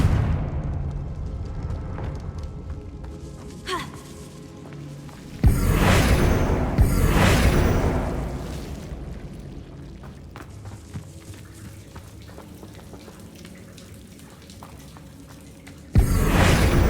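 A Confringo fire spell in Hogwarts Legacy detonates with a sudden loud blast that rolls into a roaring, crackling burn for several seconds, fading to a low rumble before another abrupt explosion at the end.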